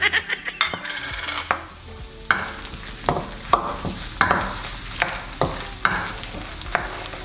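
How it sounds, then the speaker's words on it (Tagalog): Onion, ginger and garlic sautéing together in a pan for Gotong Batangas, with steady sizzling broken by repeated scraping, stirring strokes of a utensil against the pan, close and fairly loud, no talking. "Gisahin nyo lang to maigi."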